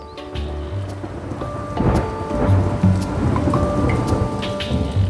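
Rain falls steadily with rolling thunder and a couple of louder cracks, a stormy backdrop under soft musical tones in a children's story; no one speaks.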